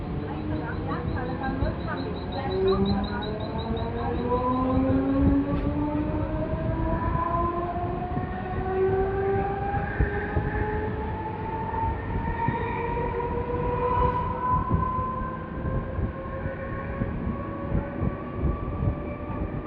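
A Mumbai local passenger train rumbles along steadily with rising and falling mechanical tones, wheels and motors droning throughout, while a voice talks over it.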